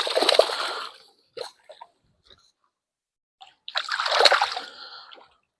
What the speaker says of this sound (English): Dropped him into the water and he swam off.